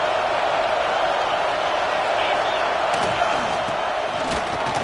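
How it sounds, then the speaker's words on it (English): Football stadium crowd roaring steadily throughout during a game, a dense, continuous wall of cheering with brief louder swells near the end. "This crowd knows when to bring it."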